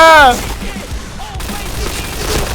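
MP7 gunfire from the video game Point Blank rattles as a steady, dense burst of loud shots. A voice is heard briefly at the start.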